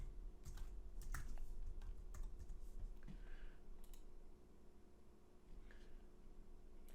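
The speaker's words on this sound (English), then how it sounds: "I'm going to put in my name and password to get in." Someone types a name and password on a computer keyboard: quiet, irregular key clicks and taps in short bursts, close by in an otherwise calm room with no talking.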